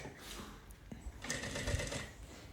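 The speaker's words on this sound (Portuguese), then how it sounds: "vou costurar com retrocesso novamente para deixar bem reforçada a costura" A sewing machine backstitching to reinforce the seam on a bag strap, a short, quiet mechanical whir of needle strokes that starts, pauses briefly and runs again.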